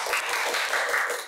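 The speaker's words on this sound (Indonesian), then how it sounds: "boleh tepuk tangannya dulu mungkin ya" A short burst of clapping from a podcast audience, brisk and fairly loud, continuing throughout without speech.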